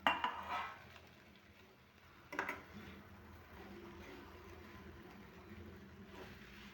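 Potatoes for a potato palya tipped into a pan with turmeric and stirred, giving a short metallic clatter at the start and another clink midway, then soft scraping over a low background hum.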